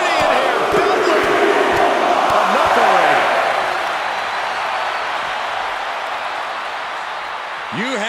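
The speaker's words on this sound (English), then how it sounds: "Look at this crowd." Loud arena crowd roaring and cheering in WWE 2K24 during a Hurricane versus Undertaker ambulance match, a steady dense wall of noise that swells then eases slightly, with commentary voices talking over it.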